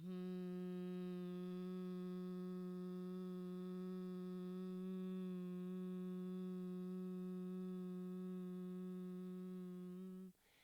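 A long, steady hum voiced on a slow exhale during a guided breathing exercise, holding one even pitch with rich overtones for about ten seconds before stopping abruptly, fairly quiet and with no talking over it.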